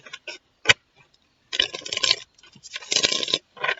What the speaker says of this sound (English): One more shuffle, and then we'll cut.